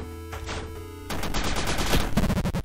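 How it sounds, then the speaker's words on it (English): Gunfire aimed at enemies in a Resident Evil video game: loud, close shots with a dense burst of rapid fire, then several evenly spaced single shots at the end. "Shooting them in the head."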